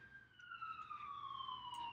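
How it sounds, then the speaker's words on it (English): Emergency vehicle siren wailing in the distance outside a home near a fire station, a faint, gradually falling tone that carries on steadily throughout, with no talking over it. "there are sirens in the background."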